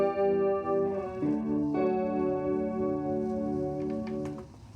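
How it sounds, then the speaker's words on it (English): Electric guitar with a Pitchfork pedal adding a perfect fifth harmony, long sustained notes layered into a thick, shimmering pad with a few soft plucks toward the end, steady and unaccompanied. "On the Pitchfork, I'm actually using a perfect fifth"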